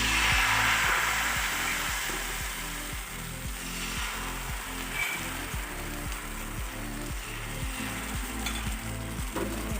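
Rice flour for khola chapori pitha sizzles steadily in hot oil, a dense continuous frying hiss with a faint rhythmic ticking beneath, loudest at the start and holding even throughout.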